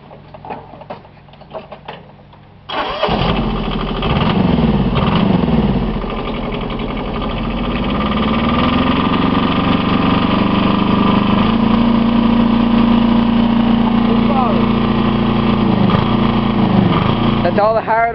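A stock Kubota diesel engine, fuel already turned up, starts after a brief quiet stretch and then revs up to its governed stock limit, holding a loud, steady roar close by with slight pitch swells; no speech over it.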